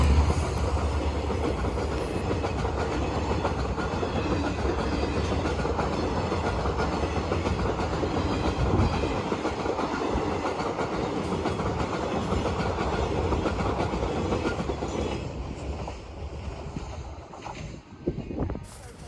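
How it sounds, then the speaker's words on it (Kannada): A train rolls past on a railway track near a poultry farm in Hubli, a loud continuous rumble with rhythmic clatter of wheels over rail joints that eases off toward the end. "ಟ್ರೇನು ಬಂದು ನೋಡ್ರಿ"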